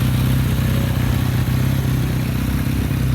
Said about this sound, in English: firing up the KZ400. It idles pretty nice for not being tuned.